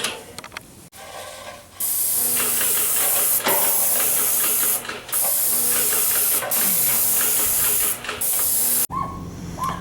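A paint sprayer applying ceramic insulating coating to exterior house siding: loud sustained hissing bursts of spray, cut by brief pauses and clicks of the trigger, close and continuous.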